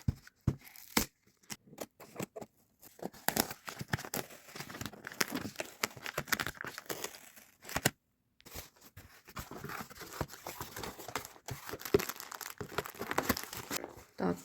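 Someone unpacking a parcel of beads by hand, with close, irregular crinkling and rustling of plastic and paper packaging in sharp bursts and short pauses, and soft speech heard faintly in places.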